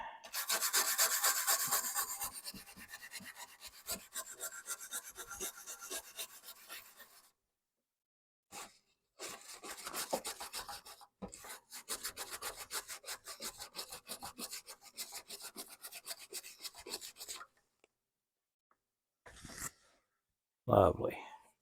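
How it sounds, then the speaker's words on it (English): A Commodore 64 circuit board being scrubbed with isopropyl alcohol, heard as fast, close, dry brushing strokes in bursts broken by short pauses, ending with a sharper scrape. "Just going to give that a little scrub with some IPA."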